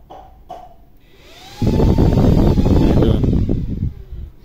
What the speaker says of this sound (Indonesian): ini saya kasih beban kipas high speed nanti kedengaran suaranya ya